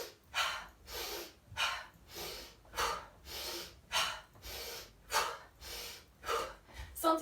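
Powerful, deliberate breathing from a guided face self-massage session: about ten strong, rhythmic breaths, close and loud, with forceful exhalations evenly spaced over the whole stretch.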